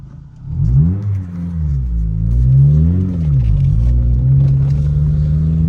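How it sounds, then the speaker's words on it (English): A car engine idles and revs with a fairly quiet exhaust, the low rumble rising and falling in pitch through several gentle throttle blips before settling into a steady drone, close and loud with no talk. "The exhaust seems fairly quiet."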